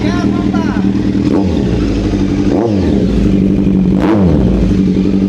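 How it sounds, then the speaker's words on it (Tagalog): A Kawasaki Z9 motorcycle engine revs close by, its pitch rising and falling in several throttle blips over a steady idle, with voices talking in the background. "ang katabi ko po na motor ngayon ay Z9 Kawasaki"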